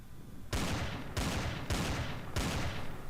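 Gunfire in the space-survival game Empyrion: four loud, sharp shots in quick succession, each a bright burst with a short decaying tail, spaced roughly half a second to a second apart.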